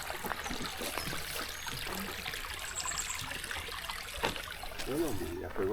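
Water trickles steadily during a visit to a château, a continuous wash of splashing drips with voices talking nearby.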